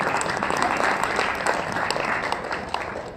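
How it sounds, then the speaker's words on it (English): A room full of people in an office setting breaks into steady, dense applause, loud and close, holding evenly for a few seconds with scattered sharper claps poking through. "Give her a round of applause."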